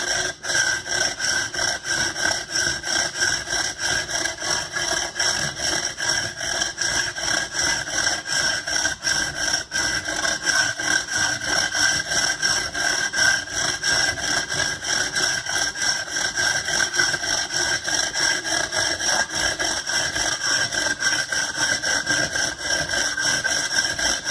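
A hand saw cuts steadily through a carbon fiber tube with a rough, continuous rasping stroke rhythm, close and sustained throughout, with no talking.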